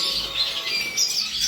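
Gould finches in an aviary chirp and tweet in quick, high, overlapping calls, close and fairly lively over a soft background hiss.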